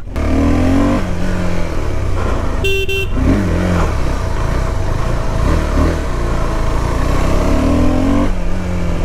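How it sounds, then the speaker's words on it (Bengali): A KTM Adventure 390X motorcycle labours up a steep mountain road, its engine droning loud and close throughout, with a short horn-like toot partway through. "লাইফে ফার্স্ট টাইম আমি অ্যাডভেঞ্চার 390X চালাবো"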